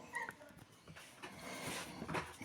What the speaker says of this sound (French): il y a la chienne qui gueule